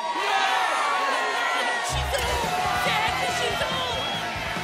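An arena crowd cheers and whoops in a sustained roar, with a deeper rumbling swell joining partway through, loud and continuous throughout.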